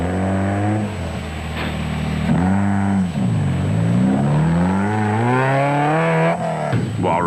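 A Toyota rally car at the Hluhluwe 400 rally in 2007 drives hard with a loud engine, climbing and dropping through gear changes and revs, steady and close throughout, with no talk.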